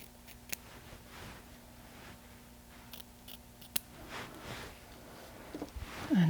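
Scissors trimming a paper tag shorter, a series of faint close snips and crisp cuts with small handling rustles in between, growing louder toward the end.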